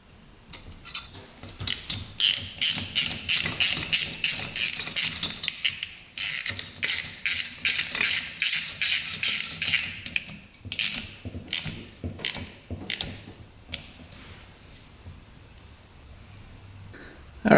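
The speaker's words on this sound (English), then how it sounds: "All right, second bolt going in." Ratchet wrench clicking in rapid bursts as a bolt is tightened on a 100HP hovercraft, near and distinct, with brief pauses between runs of clicks and no talking.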